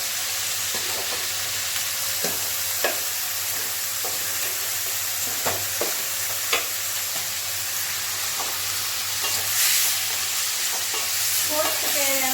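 Grated coconut toasts in a pan for a Thai Poosam meal, a soft continuous hiss and crackle broken by repeated scraping stirs of a spatula, close and even, with no talk.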